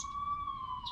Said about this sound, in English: Why is there an ambulance here?